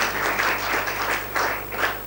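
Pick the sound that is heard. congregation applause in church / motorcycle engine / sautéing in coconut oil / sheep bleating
congregation applause in church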